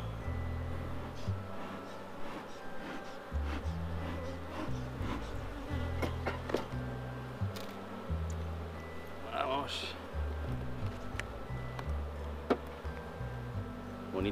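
Honeybees hum around an open brood frame of emerging bees in a Spanish apiary, a steady low buzz with insects passing close, under intermittent nearby speech and occasional handling knocks.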